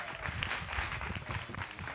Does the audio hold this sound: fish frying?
no